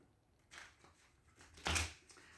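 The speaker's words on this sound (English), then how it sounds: "I'm having a hard time shuffling the cards." Tarot cards shuffled by hand, soft riffling and sliding with a brief louder flurry near the end, close and quiet with no talk.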